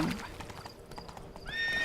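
Horse hooves clip-clop steadily on the ground in The Witcher 3: Blood and Wine, a quick rhythmic trot close by, with a brief whinny-like tone near the end and game ambience beneath.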